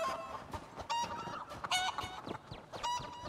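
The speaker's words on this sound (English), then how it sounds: "Chickens!" Chickens cluck and squawk in a snowy meadery farmyard in The Elder Scrolls Online, several birds calling in irregular bursts close by over a soft ambient background.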